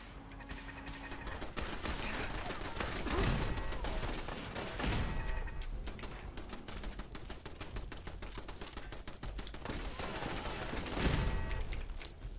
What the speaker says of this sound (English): Hear lots of explosions down there.